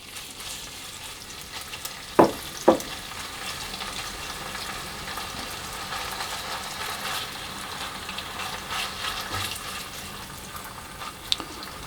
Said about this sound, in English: So I can see that I was beginning to sizzle, so I'm going to add in the bacon.